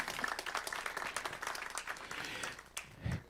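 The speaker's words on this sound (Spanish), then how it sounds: "Dale un aplauso de gratitud al Señor." A church congregation gives a short burst of scattered clapping that swells and thins over a few seconds, fairly faint, with a low thump near the end.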